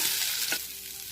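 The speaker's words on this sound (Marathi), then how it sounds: "भेंडी चिकटू नये म्हणून आधी आपल्याला भेंडी फ्राय करून घ्यायची आहे" Okra (bhindi) frying on high heat in a pan, a close, continuous sizzle with a brief stir near the middle.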